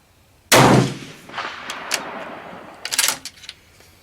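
At a shooting range, one sharp, loud gunshot cracks out close by and decays in a rumbling echo, followed by faint clicks and clinks of handling.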